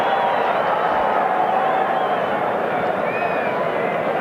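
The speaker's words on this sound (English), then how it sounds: "gets a huge ovation from the crowd" The crowd at a 1998 South Africa vs Wales rugby test in Pretoria gives a substituted player a huge ovation. A dense, sustained roar of cheering and applause carries throughout at high volume.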